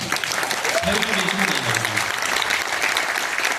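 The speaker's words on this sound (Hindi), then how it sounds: "अगर 2-4 बातें आपको अच्छी लगी हैं तो एक बार तालियां बजा दो" A hall audience at a comic poetry gathering in Rajgir's convention hall breaks into loud, sustained applause for the humorous poet. The clapping fills the clip, with a brief voice rising over it midway.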